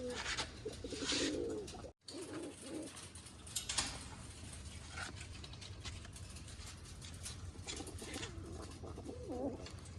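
Pigeons coo in soft, repeated rolling calls against constant background noise and a faint engine rumble, with a brief dropout early on.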